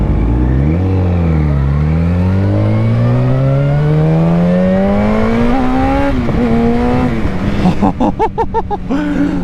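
Motorcycle engine revving after a small twist of the throttle, pitch climbing steadily over several seconds and then dropping into a choppy burble, loud and close.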